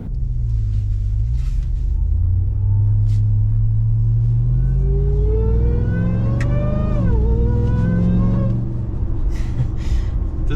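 A Ram TRX pickup's supercharged engine with a JMB intake rumbles loudly up close, and a rising intake whine climbs with the revs, peaks, then falls away as the throttle eases.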